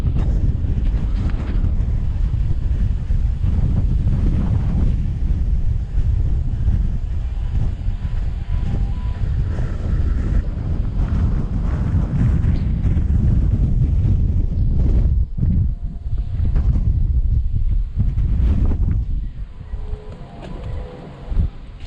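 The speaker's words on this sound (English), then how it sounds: "I'm now going to take you out in the wind to see what good it is" Strong, steady wind buffets a microphone fitted with a windsock on the bank of the River Humber, a loud continuous rumble with gusts that briefly drop away near the end, no one speaking.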